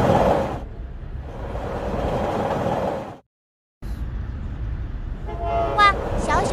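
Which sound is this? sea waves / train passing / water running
train passing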